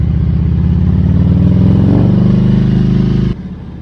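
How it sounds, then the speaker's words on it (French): A 2000 Harley-Davidson Road King idles loud and close, its deep, lumpy V-twin pulse steady throughout, with a slight rise in the middle before the level drops near the end. "C'est pas le même bruit. C'est pas la même taille. C'est pas le même poids. C'est pas la même moto."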